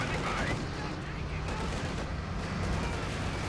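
Dense battle noise in the Company of Heroes 2 video game as an IS-2 tank fires amid steady gunfire and booming artillery, a constant loud wash with a commentator talking over it.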